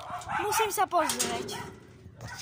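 A dog nearby gives a few yipping, whimpering barks, the cries mixed with a person talking anxiously over them.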